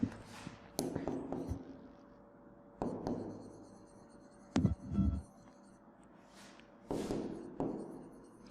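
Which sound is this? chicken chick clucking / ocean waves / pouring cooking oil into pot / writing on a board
writing on a board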